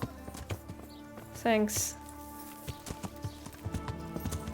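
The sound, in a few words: horse hooves approaching in Kingdom Come: Deliverance video game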